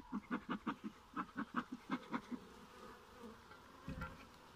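Soft, pulsing honeybee buzzing at a hive in short bursts, quiet and close, fading into low background hum with a faint thump near the end.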